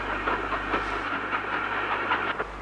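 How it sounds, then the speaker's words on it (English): Train pulling out of Andoversford station in Gloucestershire, a steady rolling rumble with faint rhythmic clatter and a low hum throughout, heard at moderate distance with no talking. "train departs Andoversford"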